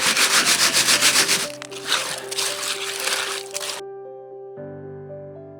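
Creek gravel and water swish and grind rhythmically in a shaken gold pan for a second or two, then softer rubbing continues while music takes over.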